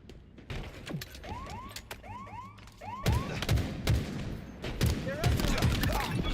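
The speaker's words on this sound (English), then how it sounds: "In a hail of gunfire." Rapid bursts of gunfire in Halo Infinite crackle and pop amid sci-fi zaps and whooshing electronic effects, busy and continuous.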